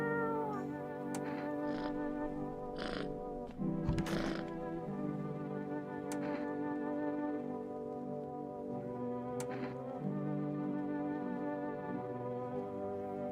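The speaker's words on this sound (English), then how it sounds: "Pet the cat." A video game cat being petted gives several short meows and purring tones over a quiet, steady musical hum, the calls spaced out across the span with one louder burst near the middle.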